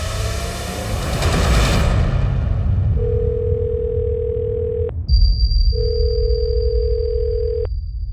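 An unanswered phone call in a crime-drama scene: a steady electronic ringback tone sounds twice, each lasting about two seconds with a short gap between, over a dense rumbling background.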